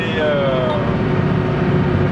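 An old S170 military truck lurches over rough terrain, its engine and drivetrain groaning in a steady, loud rumble with shifting creaks as the chassis pitches and rolls, close up.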